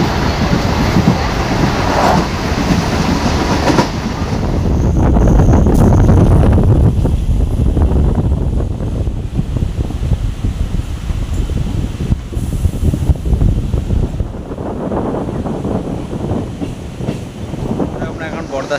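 A train running at speed on the Howrah to Haldia line, with steady loud wind and rail rumble rushing past throughout, rising slightly midway, with faint rattling of the carriage and no talk.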